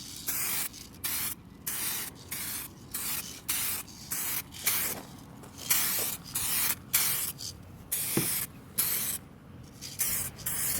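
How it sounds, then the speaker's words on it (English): A spray can lays a light flash coat onto a repaired, leaky gas tank in a rhythmic series of about a dozen short hissing bursts, each separated by brief pauses. "we're gonna hit it with a flash coat, which is a light coat"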